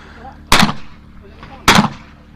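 Two loud, close shotgun blasts at a clay shooting competition, about a second apart, each a sharp boom with a short fading tail over quiet outdoor background.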